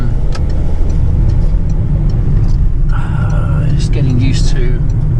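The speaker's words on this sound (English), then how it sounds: "this is what I look like driving a post office van" A Royal Mail post office van with a manual gearbox drives along a road. A loud, steady engine and road rumble runs throughout, and a person talks over it.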